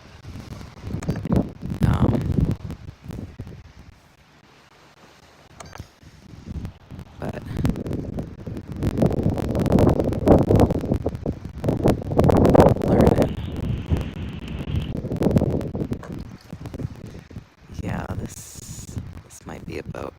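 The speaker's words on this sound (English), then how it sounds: "There's a lot of water noise out here that I imagine isn't very helpful." Water noise out on the Salish Sea buffets the microphone in irregular gusty rushes and hisses, loud and close, while someone talks over much of it.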